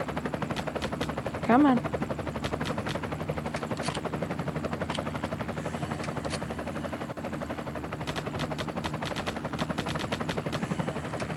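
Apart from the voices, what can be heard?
gunfire in the video game Zombie Hunter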